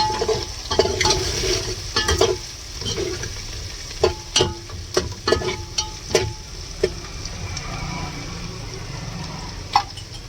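Garlic and chillies fry in a pan of oil, a loud steady sizzle punctuated by several sharp clanks and stirring knocks from a utensil, with no speech present.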